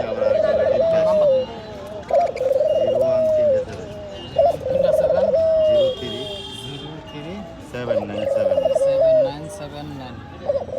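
Pigeons or doves cooing repeatedly in rhythmic, drawn-out phrases close by, with people talking in the background throughout.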